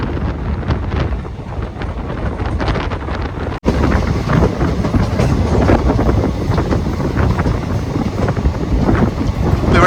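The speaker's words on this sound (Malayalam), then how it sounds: "ഈ കൂട്ടി കൂടെ ട്രെയിൻ ഭയങ്കര സ്ലോ ആയിട്ട് പോകുള്ളൂ കേട്ടോ" An Intercity Express on the Thrissur-Coimbatore route rolls slowly past a fenced elephant-crossing section, heard as a continuous low rumble with heavy wind buffeting on the microphone.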